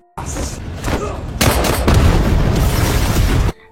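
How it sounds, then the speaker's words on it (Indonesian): A loud, sustained explosive blast in a film, with booming low rumble and crackling debris, building in intensity before cutting off abruptly. "ledakan itu pun terlihat jelas oleh Cat"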